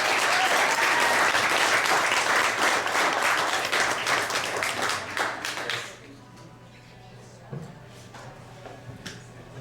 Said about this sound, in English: So you owe yourself a round of applause for that.